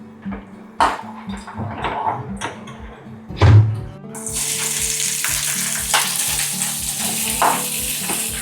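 Onion being fried in hot oil in a home kitchen, cooking for a prawn curry, gives a steady close sizzle that swells into loud bright crackling after it goes into the pan, with a few clanks of utensils and a little talk.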